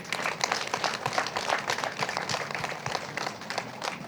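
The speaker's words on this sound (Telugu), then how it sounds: "మరి ఎన్టీఆర్ జిల్లా చెన్నకేశ్వరరావు గారి కోసం గట్టి క్లాప్స్ కొడదాం" Steady, dense clapping from an audience gathered at a Telugu community event, a sustained burst of applause honoring a district volunteer, fairly loud and continuous with no talking over it.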